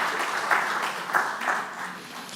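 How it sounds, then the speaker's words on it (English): At a panel event on music copyright and intellectual property, an audience applauds a guest in a soft, smeared wash of clapping with a few slightly louder swells, fairly distant and steady. "Let's have a round of applause"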